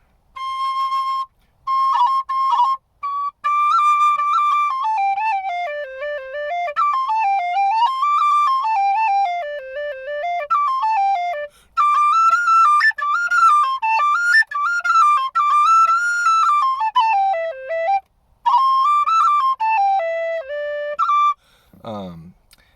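A high tin whistle plays a lively melody up close, with quick ornamented notes and brief pauses between phrases.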